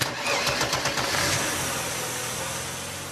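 A 1979 Cadillac Seville with an Oldsmobile-derived 5.7-litre V8 starts and revs briefly, then settles into a steady, fairly close idle with no talk.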